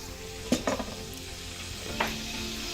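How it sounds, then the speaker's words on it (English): Ghee boiling in a pot during traditional Teso cooking makes a soft, steady sizzle, with a few light clinks or stirs early on and another near the end. "As my ghee is boiling, as I told you, I'm going to prepare emuna."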